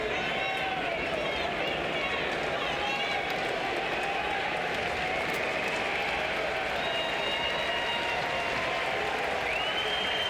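A baseball crowd at a college game between Tennessee and LSU keeps up a steady, continuous roar of cheering and scattered clapping, loud and unbroken throughout, with a play-by-play voice talking over it.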